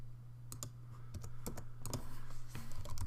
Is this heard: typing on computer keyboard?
yes